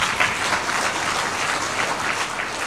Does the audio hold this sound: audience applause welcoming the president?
yes